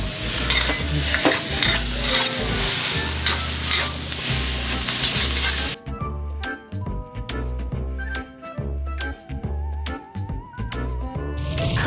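Noodles stir-fried over charcoal at a street food stall in an alley in Jogja: loud, close sizzling with repeated scraping and clanking of a spatula against the wok, which grows sharper and more rhythmic partway through.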